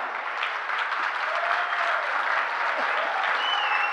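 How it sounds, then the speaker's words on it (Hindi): A crowd at a comic poetry show gives sustained, loud, dense applause that holds evenly from start to finish, with a faint voice in the mix. "ये तालियां अगर आप 10 गुना कर दो"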